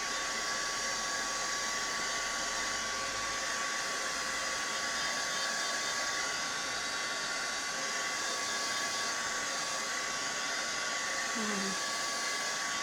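A hair dryer blows steadily and close up, drying paint on a card in autumn colours, a continuous broadband whoosh with an even hum running the whole time without a break.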